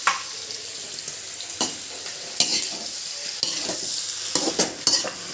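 Garlic, ginger and chili frying in a hot pan, with a steady close sizzle broken by several sharp scraping stirs of a spoon across the pan.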